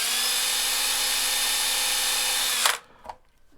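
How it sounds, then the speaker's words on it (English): A power drill runs at a steady high-pitched whine while a reamer enlarges the switch hole in a Squier Strat guitar body, close and loud for about two and a half seconds, then stops abruptly, followed by a couple of faint handling clicks. "Okay, I'll just ream it more then."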